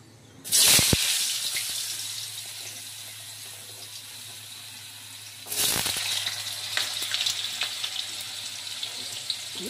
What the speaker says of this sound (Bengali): আলুটা ফ্রাই হয়ে গেলে আবার ফুলকপি দেবো।